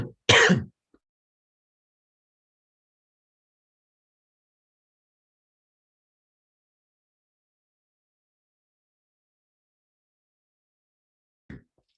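A lecturer on an online IT governance session gives one sharp throat-clearing cough right at the start, followed by long silence and a faint, brief throat sound near the end.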